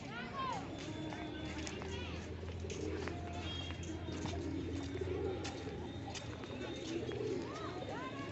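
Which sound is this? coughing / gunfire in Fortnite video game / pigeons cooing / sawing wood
pigeons cooing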